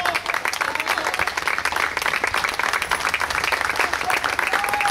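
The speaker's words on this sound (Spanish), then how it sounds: "Denle un aplauso al Señor por todo lo hermoso que ha hecho en nuestra vida" Steady, dense applause fills a church as the congregation claps for several seconds, a continuous crackling roar with faint voices mixed in.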